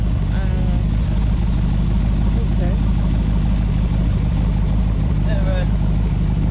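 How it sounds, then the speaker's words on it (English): A DeLorean converted to a custom LS3 V8 idles on cold start, a steady low engine rumble running throughout beneath voices talking nearby. "it's probably still a little bit on cold start, so it'll just, idle out"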